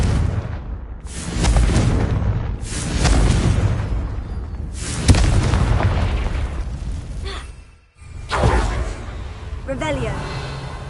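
Confringo fire spell blasts from Hogwarts Legacy gameplay, several loud booming bursts in succession over a continuous rumble, with a voice speaking at points between them.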